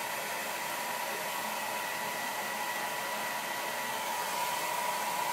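A hair dryer on low heat blows steadily down onto natural hair being straightened during a blow-out, a constant close, even rushing hiss with no talk.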